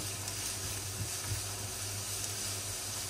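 Onions and carrot sizzle softly in a pan while being stirred, a faint steady frying hiss with occasional light scraping bumps.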